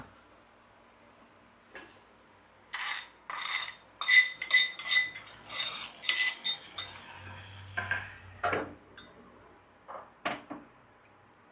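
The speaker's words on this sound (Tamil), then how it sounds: "நம்ம வந்து இப்போ தாளித்து இதில் கொட்டிட்டு டக்குன்னு மூடி வச்சிடலாம்" Hot tempering poured into a pot of mutton kuzhambu, then a lid clapped shut: a run of sharp metallic clinks and short crackling bursts from utensils and pot, close by and moderately loud, followed by a few scattered knocks.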